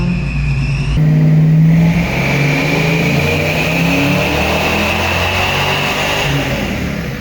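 Engine of a supercharged Ford Mustang, sat for 15 years, revving hard under a full-throttle pull, a loud, close, sustained roar with rising supercharger whine after a brief shift at one second, no talk.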